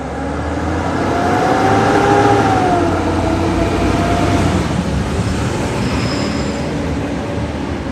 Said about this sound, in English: We got the garbage trucks rumbling through.